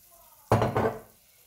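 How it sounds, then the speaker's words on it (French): Olive oil poured into a hot pan for a tuna omelette, giving one sudden sizzling burst that swells briefly, then fades within about a second, close by and alone. "je vais verser mon huile d'olive, un petit peu d'huile d'olive"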